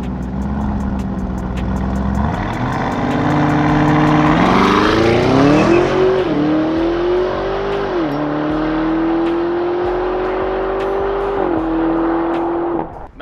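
Lamborghini Urus and Tesla Model X Plaid on a practice drag launch, a loud engine roar climbing through rising revs with several gear shifts, staying close and strong throughout.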